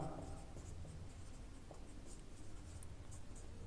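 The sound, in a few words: writing a physics formula on a board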